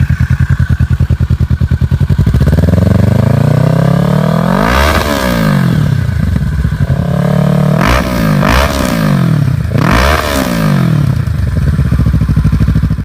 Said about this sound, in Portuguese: teríamos obrigatoriamente uma ordem de ignição de 180 graus, como é possível ver aí na tela, o que resultaria nesse som.